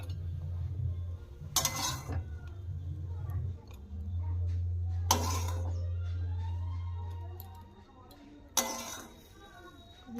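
A pot of boiled flat beans is taken off the stove, with three sharp metallic clanks and scrapes spread across the clip over a steady low hum from the burner.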